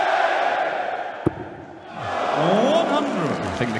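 Crowd at a PDC European Tour darts match in Riesa surging in a loud collective reaction, a broad roar swelling and fading with a sharp knock partway, while a commentator talks over it.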